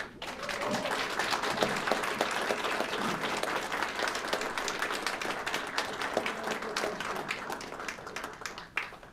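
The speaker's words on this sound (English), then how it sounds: "Un applaudissement" Sustained applause from an audience at a French Legion of Merit award ceremony, dense steady clapping filling the room for about nine seconds and fading slightly at the end.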